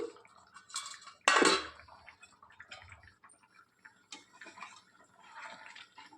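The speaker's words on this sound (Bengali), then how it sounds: "5 মিনিট পর ঢাকাটা খুলে দেখি।" A lid comes off a pot of simmering chicken and potato curry with one sharp metallic clatter, followed by faint, scattered clinks and quiet kitchen sounds.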